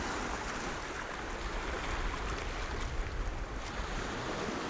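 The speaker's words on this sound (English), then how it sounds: "there's one or two waves coming in now" Sea waves surge onto the rocky shore at Kimmeridge Bay in a steady wash of surf with wind buffeting, continuous and fairly loud, swelling slightly around the middle, with no talking.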